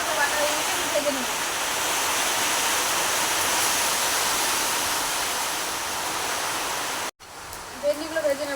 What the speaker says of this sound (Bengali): ভেন্ডিগুলো ভেজে নেব